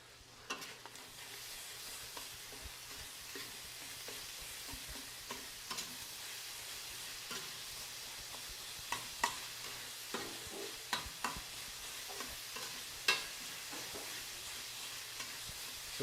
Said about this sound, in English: take 10 seconds and stir the beef